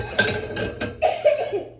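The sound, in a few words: sneeze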